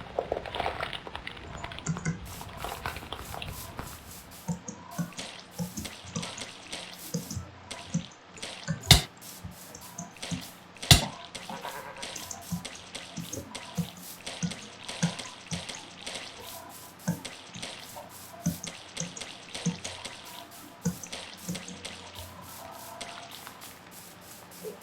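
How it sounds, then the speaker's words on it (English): A massive waterfall in the video game Blightfall roars as a steady wash of falling water, with splashes and drips throughout and a few sharper knocks standing out. "That is a massive waterfall, which is also cool"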